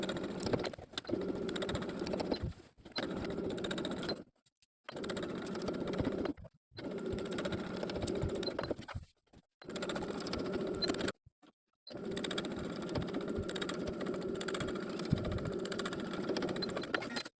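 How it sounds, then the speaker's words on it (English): A sewing machine stitches in the ditch along the side and waistband seams of culotte pants, running in several steady bursts of a few seconds each, separated by short silent pauses, fairly quiet, with no voices. "I'm going to stitch in the ditch of both of the side seams, as well as stitching in the ditch of that main waistline seam"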